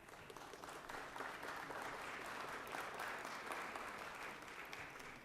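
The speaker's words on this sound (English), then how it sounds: "I'd like to ask all of you to join me in giving Mr. Maynard and my friend welcoming round of applause." Chamber members in the Georgia Senate give a welcoming round of applause, a steady wash of many hands clapping together at a moderate distance, unbroken from start to finish.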